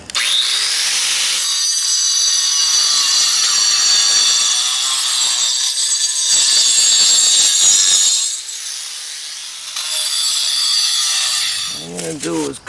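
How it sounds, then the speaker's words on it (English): Angle grinder cleaning up a chimney crown, a loud steady high-pitched whine with grinding grit that runs nearly continuously, dips briefly, then resumes before ending in a clatter. "So now I just got to clean it up a little bit with the grinder."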